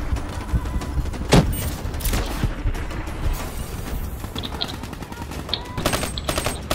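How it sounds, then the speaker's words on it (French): Video game gunfire from Call of Duty Black Ops 3 rattles in dense, rapid bursts aimed at the player, with loud automatic fire and sharper single cracks over a rumbling battle din, no voices standing out. "Qu'est-ce que c'est qui me tire dessus?"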